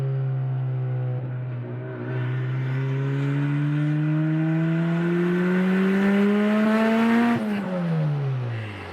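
A loud turbocharged Toyota Celica GT-S engine revs up steadily, its pitch climbing for several seconds before dropping sharply as the driver lets off.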